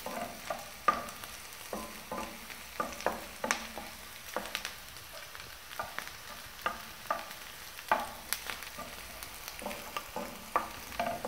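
A spatula scrapes and stirs Gobi Manchurian ingredients in a hot pan, giving a soft, steady sizzle under irregular, quiet clinks and scrapes that come every second or so.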